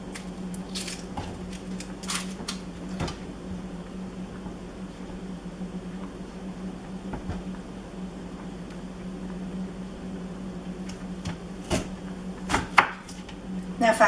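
A knife cuts through half an onion on a cutting board, with a quick run of crisp, sharp slices that come in bursts and pauses, close and fairly quiet.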